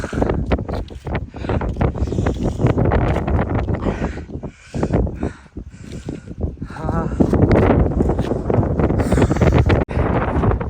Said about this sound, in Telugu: గాలి అయితే సూపర్ వస్తుంది, ఫుల్ గాలి